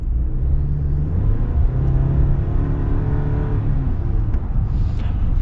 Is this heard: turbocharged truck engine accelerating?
yes